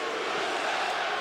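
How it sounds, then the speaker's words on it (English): An arena crowd at Barclays Center during a UFC fight roars in a dense, continuous wash of massed voices, loud and steady for just over a second, with no distinct chant rhythm. "USA chants here at Barclays Center as this New York crowd tries to get behind one of their own"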